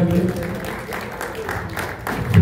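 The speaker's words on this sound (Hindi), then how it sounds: "प्लीज़ जोरदार तालियां" Applause at an award ceremony, loud clapping from the audience mixed with voices and low background sound, staying fairly steady and swelling slightly at the end.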